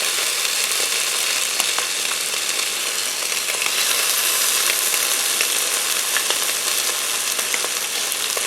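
Chicken thighs searing in a hot Ninja Foodi PossibleCooker, a dense continuous sizzle and crackle with scattered pops, close and steady throughout with no talk.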